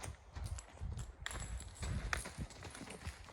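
Horses out on a walk, their hooves thudding in a soft, uneven clip-clop rhythm, quiet and close with faint background rustle.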